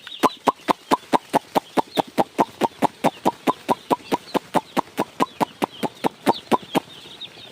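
Chicks on a poultry farm at night: rapid, evenly spaced clucking pulses dominate, about four per second, with faint high peeping from the chicks behind them.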